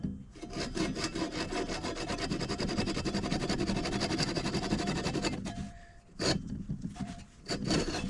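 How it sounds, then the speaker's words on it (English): A handsaw cuts off a brass hammer piece in steady, rapid back-and-forth strokes, loud and close for about five seconds, then stops briefly before a few final short strokes. "I'm going to go ahead and cut that off now."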